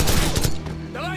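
Rapid gunfire from Call of Duty 4: Modern Warfare, a short close burst of loud sharp shots lasting about half a second, followed by a quieter ringing tail.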